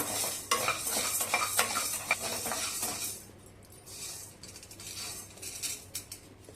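Sago pearls dry-roast over moderate heat in a pan, with a continuous rattling, scraping stir of a spoon against metal, busier and louder at first and then softer and lighter, with no talking.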